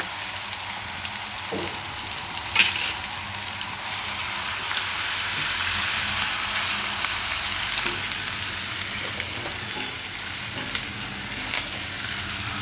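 Asafoetida crackles and sizzles in hot oil as a tempering for a fenugreek and corn dish, a continuous fine frying hiss with a few sharp pops and light stirring knocks.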